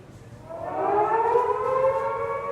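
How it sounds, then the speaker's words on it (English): An air raid siren at a World War II museum exhibit at Bletchley Park winds up and rises into a steady wail, loud and sustained after a quiet start. "In Britain's cities, sirens wail."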